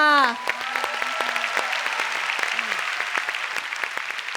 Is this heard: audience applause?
yes